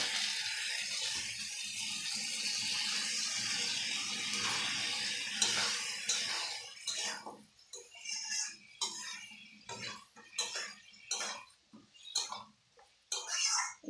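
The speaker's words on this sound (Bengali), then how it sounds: "আমার রেসিপিটা দেখো আমি একটু জল দিয়ে দেবো" Water gushes steadily from a tap into a pot of mutton kosha being cooked, a continuous splashing flow that then breaks into uneven pours and clinks of utensils, close by, with no voices.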